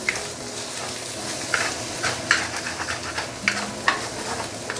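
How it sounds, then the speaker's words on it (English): Seafood chow mein noodles stir-fried in a hot pan with garlic, a steady sizzle under repeated scraping and clattering strokes of a spatula against the pan bottom, close and fairly loud. "now we can actually put in the noodles and scrape everything up"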